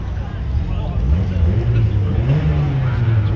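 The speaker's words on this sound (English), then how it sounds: "that's Tom's little Corsa." A small Vauxhall Corsa at an end-of-year car meet at Clwyd Park, Rhyl, runs loud and close with a rising, revving engine tone throughout, under outdoor ambience.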